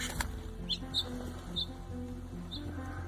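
A small sparrow, freed after freezing onto a pipe, gives a few faint, high chirps spaced out over a steady low background hum.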